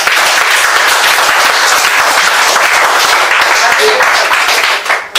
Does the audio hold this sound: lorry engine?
no